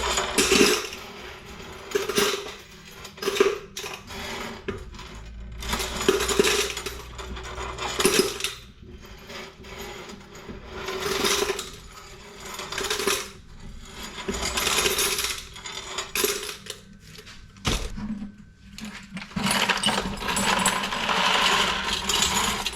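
Brass screws, nuts and bolts from curbside hardware being sorted by hand, with repeated clinks and rattles of small metal pieces dropping and sliding in irregular bursts, close and fairly loud, continuing throughout without any talk.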